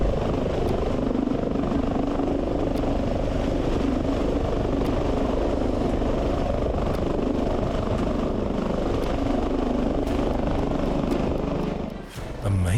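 A helicopter hovers close and loud with a steady rotor roar as it touches down on a single landing skid in a mountain climbing area in Cochamó, Los Lagos region, Chile.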